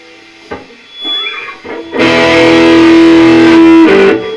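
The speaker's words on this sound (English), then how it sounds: "now I will put on the third setting, which is crunch and distortion" A few scattered guitar notes give way to a loud, sustained chord of crunchy, distorted electric guitar through an M-Vave Cube Baby amp on its crunch setting, ringing out for a couple of seconds.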